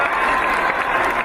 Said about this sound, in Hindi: आपसे अनुरोध है कि उनका भी जोरदार तालियों से स्वागत करें।